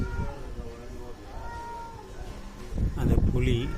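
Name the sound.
house cat meowing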